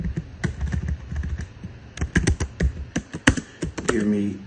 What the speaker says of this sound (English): So you can come here and type whatever you want to type.